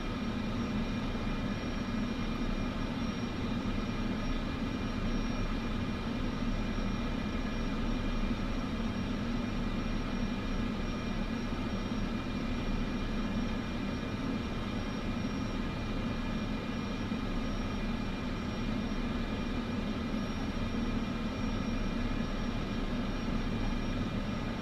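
Jet engines hum at a steady idle while an airliner taxis toward the runway in Microsoft Flight Simulator 2024, a constant low drone with a faint whine above it and no talking.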